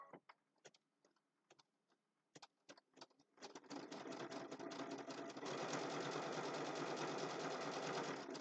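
A sewing machine locks a stitch on fabric while sewing a triangle zipper bag: a few short taps first, then a steady, close, continuous whirring run of stitching.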